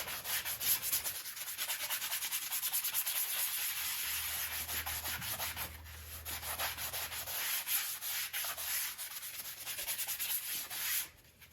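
A farrier's rasp scrapes a horse's hoof smooth during shoeing at a shoeing contest, with close, steady rhythmic strokes that are quiet to moderate and carry no talk.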